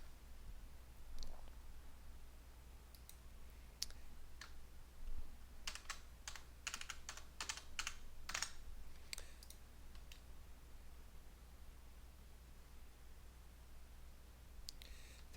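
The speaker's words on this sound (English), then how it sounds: "So I'll type in my password here" A computer keyboard being typed on in scattered bursts of key clicks, with a dense run of rapid presses in the middle while a password is entered, over a steady low hum.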